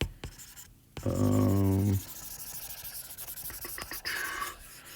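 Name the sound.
erasing writing on a board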